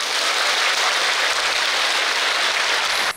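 Dense applause from an audience at a live hosted event fills the room loudly and steadily for a few seconds, then cuts off abruptly.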